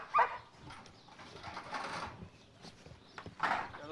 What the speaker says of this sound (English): The dogs you hear barking are sheep dogs.